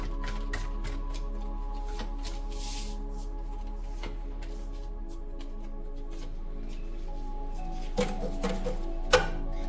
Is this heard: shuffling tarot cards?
yes